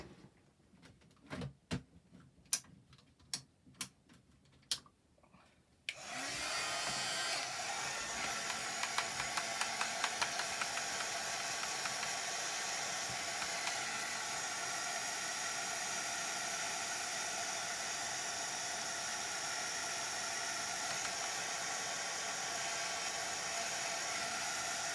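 Heat tool blasting steadily to dry wet ink on a handmade card, a loud continuous broadband whoosh starting after several sharp clicks and taps, then holding without a break to the end.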